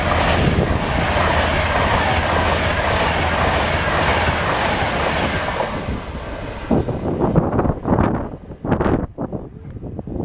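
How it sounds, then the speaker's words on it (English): A non-stopping train roars through the platform at Stechford station, loud and close with rushing wind and clattering wheels, then fades into uneven clicks and rumbles as the last cars pass. "The next train at platform 1 does not stop here."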